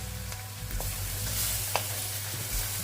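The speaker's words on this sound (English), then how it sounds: "just give that a bit of a stir, like so" Saltfish breakfast frying in a pan, stirred with a spoon: a steady low sizzle runs throughout, broken by a few soft scrapes and one sharper tap near the middle, with no talking.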